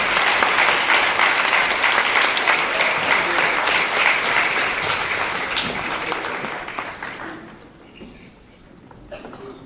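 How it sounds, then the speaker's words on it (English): A crowd at an elementary school 5th grade promotion ceremony applauds steadily for several seconds, the clapping thinning and fading away toward the end. "If we could give them all one more round of applause."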